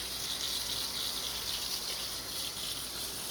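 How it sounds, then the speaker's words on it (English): Water gushes steadily from a running tap as a tie-dye shirt is rinsed beneath it to wash out soap suds, a continuous close hiss with no pauses. "rinse, just a little light rinse, get most of these suds out"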